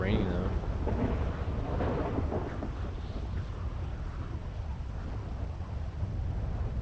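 Thunderstorm in the GTA video game, a continuous low rumbling of thunder with steady rain hiss, holding a fairly even level throughout with no clear pauses.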